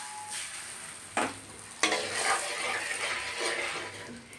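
White cumin seeds tempering in hot oil in a wok, a sudden close sizzle bursting up twice and then settling into steady crackling frying, with a few faint scraping stirs.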